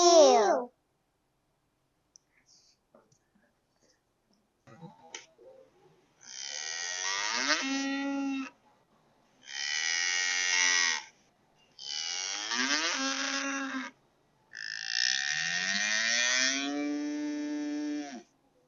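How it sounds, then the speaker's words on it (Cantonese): A cow moos four times, long drawn-out lowing calls with short pauses between, loud and close, after a brief voice at the start. "誰在叫？ 牛在叫。"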